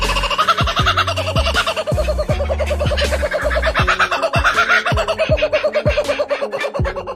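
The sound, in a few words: bird singing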